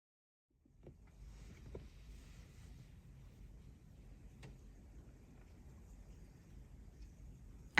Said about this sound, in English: there were an awful lot of day boats going past, various sizes